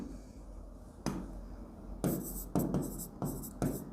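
Handwriting during an accountancy lesson: several short scratchy bursts of pen strokes on paper, close and fairly quiet, separated by brief pauses.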